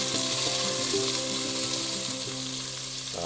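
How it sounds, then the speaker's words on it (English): Celery and carrots sizzle loudly in hot oil in a pot as they saute, a close, continuous crackling fry with some tonal hum underneath and a soft stir near the end. "We have our celery and carrots. We're going to put it in our oil here. We're going to saute the vegetables."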